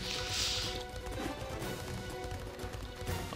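Galloping hooves of a ridden horse in a video game beat out a steady, rapid clip-clop rhythm throughout, fairly close and even in loudness.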